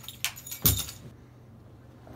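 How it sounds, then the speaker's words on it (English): Keys jangle in two quick metallic bursts as they come out of a handbag, then fall quiet. "My other part of my keys"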